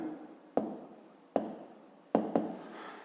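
Pen or chalk writing words during a fifth-grade maths lesson, a few short scratchy strokes each starting with a sharp tap, close and quiet with no speech.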